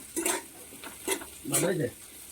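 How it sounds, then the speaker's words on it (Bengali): Sago is stirred while frying in a pan, with three short bursts of scraping and sizzling close by, the last longer, over faint kitchen background. "আমি নাড়তে থাকি তুমি একটু সাবু দিয়ে যাও"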